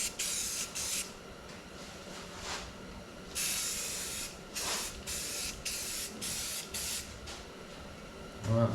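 Paint is spray-painted onto a truck wheel in short hissing bursts of aerosol, about a dozen sprays of varying length with brief pauses between them, close and fairly quiet, with no speech.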